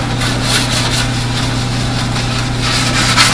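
A 100% stainless steel scrubber rubbed back and forth across a wet surface, a close, continuous gritty scraping with rhythmic swells over a steady low hum.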